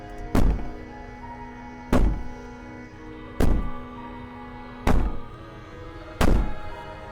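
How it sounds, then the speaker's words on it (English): Heavy banging in the video game Slay the Princess: five loud, booming thuds land roughly every second and a half, each ringing out briefly before the next, with no clear wailing alongside. "Maybe the banging and wailing will stop if you just don't pay attention to it."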